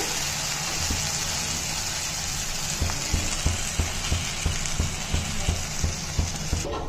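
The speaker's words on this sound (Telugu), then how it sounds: "ఇక దోశ బాగా కాలిందనమాట" A jowar flour dosa frying on a hot pan gives a soft steady sizzle, with a run of light regular taps or scrapes in the second half and no voices.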